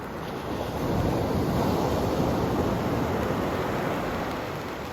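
Sea surf washing onto a beach where flounder fishing rods are set up, a continuous close roar of breaking waves mixed with heavy wind buffeting, steady throughout with no voices.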